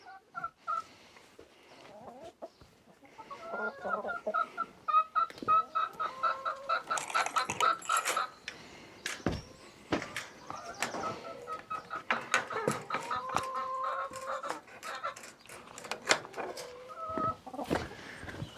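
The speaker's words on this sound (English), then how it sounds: "Happy hens." Hens clucking and squawking as they come out of their coop on an allotment, a busy overlapping flock with sharp calls and scratchy rustling, quiet at first then growing steadily livelier.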